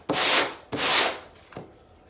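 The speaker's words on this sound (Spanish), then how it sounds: "lijar un poquito el estuco con una lija gruesa de estas de taco" A coarse sanding block rubs over stucco on a vintage steampunk picture frame in two long, loud, scratchy strokes followed by a shorter, fainter pass, with no talking.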